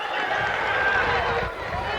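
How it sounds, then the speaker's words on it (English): Crowd noise at the 1997 FAI Youth Cup Final football match between Drogheda United and St Joseph's, a steady broad roar of supporters urging their team on, sustained throughout with a brief dip near the end. "And the crowd getting behind them now."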